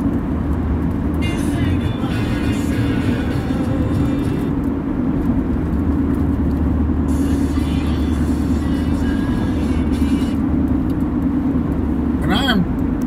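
Steady road traffic on the Coronado Bay Bridge in San Diego, heard from a bicycle on the bridge, a loud continuous low rumble of passing vehicles with wind noise throughout and no talking.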